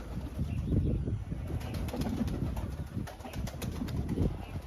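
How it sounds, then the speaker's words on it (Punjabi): Soft, low pigeon coos murmur on a rooftop under a loud, constant rumble of wind or outdoor noise, with faint flutters now and then. "ਆ ਫਿਰਦਾ ਕਬੂਤਰ ਪਤਾ ਨਹੀਂ ਕਿਹੜਾ ਹੈ"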